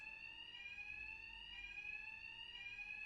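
A loud, steady electronic alarm rings without a break in the video game Batman: Arkham Knight. It holds a shrill, even tone and plays alone, with no voices over it.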